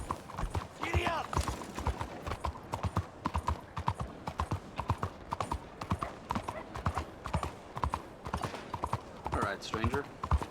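Rhythmic clip-clop of horse hooves galloping in the video game Red Dead Redemption 2, steady and close throughout, with character voices talking over it.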